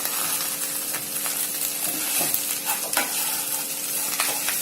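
Pepper chicken with coriander leaves is stirred in a frying pan: a close, steady sizzle broken by irregular scraping and clacking strokes from the spoon, with no talking.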